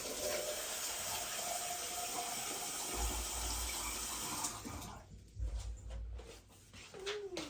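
A steady, soft stream of water pours over pots of sown dill seed for several seconds, then stops, leaving quieter scattered splashes and small handling noises.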